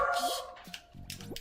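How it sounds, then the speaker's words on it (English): A dog barks from somewhere upstairs indoors, giving a few short, fairly faint barks and yips at an uneven pace. "I'm assuming you guys can hear my dog barking up there."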